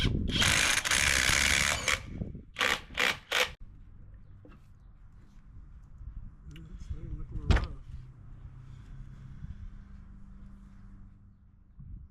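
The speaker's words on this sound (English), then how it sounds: "Then you'll drive that bolt down into the flywheel puller." A 15/16 bolt is driven into a flywheel puller on a two-stroke Mercury outboard with a power tool, giving a loud buzzing burst followed by short rattling pulses, then quieter clinks and someone talking.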